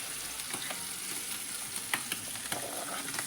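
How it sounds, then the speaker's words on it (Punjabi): Spices and capsicum roast in a hot pan for a Rajasthani paratha, giving a steady close sizzle with light scraping stirs and small crackles throughout, with no talk. "ਸਾਡੇ ਮਸਾਲੇ ਨੂੰ ਭੁੰਨ ਲਾਂਗੇ ਆਪਾਂ ਪਾਈ ਆਪਾਂ ਨਾਲ ਪਾਵਾਂਗੇ ਸ਼ਿਮਲਾ ਮਿਰਚ"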